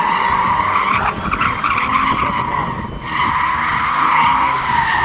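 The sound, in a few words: car drifting with tires skidding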